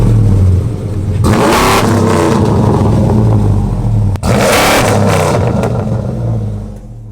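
An E85-tuned 6.2L Chevrolet Silverado V8 breathing through long 6-inch MagnaFlow mufflers revs hard twice, each loud throaty burst swelling and falling back, close to the listener with no talk over it.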